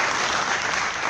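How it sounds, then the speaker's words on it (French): Steady, dense applause from a seated audience at a political campaign launch event in Côte d'Ivoire, loud and even throughout a brief burst with no voices over it. "Donc je pense que cela mérite des applaudissements."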